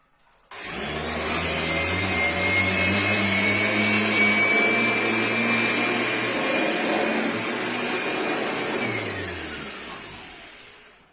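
A vacuum cleaner runs steadily through a dust test, a loud continuous motor whine with a rising pitch line, starting abruptly and winding down toward the end, with no talking.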